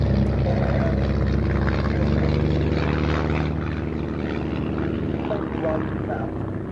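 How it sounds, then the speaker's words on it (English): Skybolt biplane in yellow and blue flying a side slip at an air show, its propeller engine droning steadily and loudly throughout, with some talk in the background. "And you can see Bruce just moving into that side slip there"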